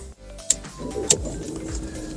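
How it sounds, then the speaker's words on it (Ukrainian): A Ford Focus engine is started with the key. A couple of sharp clicks come first, then a short starter whir, and the engine catches into a low, steady idle rumble close by. "Заводиться як Volkswagen, тільки не потрібно довго ключ зажимати."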